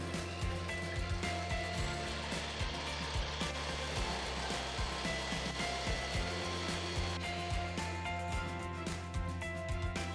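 An electric mixer whirs steadily as eggs are beaten until stiff for a chocolate orange pudding, a loud continuous motor drone with faint rhythmic knocks of the beaters against the bowl.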